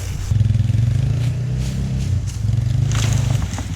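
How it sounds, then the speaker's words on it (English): A four-wheeler engine labors and revs in close, loud surges while yanking a felled tree off its stump, the pitch rising and falling over a few seconds with faint clattering. "Now I'm just gonna try to yank it with the four-wheeler again."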